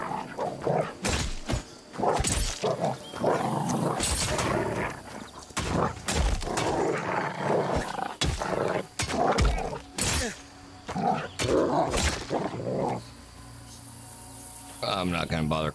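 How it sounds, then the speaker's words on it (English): Wolves snarling and growling in the survival video game Nightingale, bursts of aggressive animal noise mixed with combat thuds and game effects, loud and close, while a player talks throughout. "More frickin' wolves."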